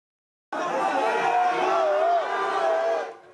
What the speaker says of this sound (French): C'est sous des huées que Thierry Meignen quitte son poste de maire du Blanc-Ménil.